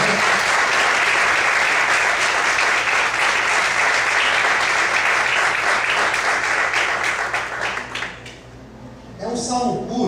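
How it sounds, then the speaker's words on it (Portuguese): A church congregation applauds loudly and continuously for several seconds, the clapping thinning out near the end as a voice starts speaking. "Você pode aplaudir?"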